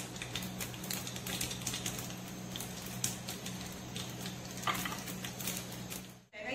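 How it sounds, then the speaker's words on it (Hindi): Mustard seeds sizzle and pop in hot oil, a crackling patter of quick sharp ticks over a steady frying hiss, close by. "राई तड़क रही है"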